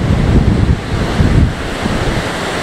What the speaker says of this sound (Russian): Щеки раздувает от ветра.